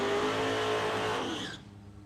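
A nitro drag racing car at Palmyra Dragway on test day roars loudly at close range in a sustained engine blast, then cuts off abruptly, leaving a quieter tail of ambient noise.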